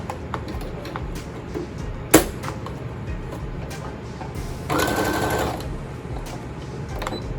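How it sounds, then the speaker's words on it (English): A sewing machine straight-stitches gym shorts fabric, its motor whirring under a low background hum, with one sharp tap and a short louder burst of stitching near the end. "I normally would straight stitch it first."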